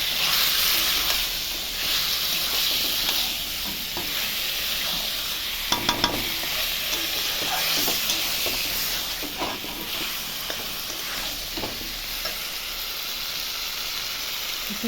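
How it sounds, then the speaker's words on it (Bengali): Meat, potatoes and tomato frying with spices in a pan, a steady close sizzle and hiss throughout, with occasional scraping stirs and a few clinks of the spoon against the pot. "সব দিয়ে ভালো করে আমি মশলার সঙ্গে মিশিয়ে নেবো মাংসটার সাথে।"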